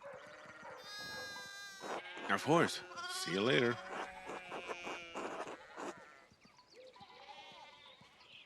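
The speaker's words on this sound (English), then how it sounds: "We need to get these sheep under control." Sheep bleating in the medieval village game Pentiment, several loud wavering bleats overlapping in the middle, with people talking before and after.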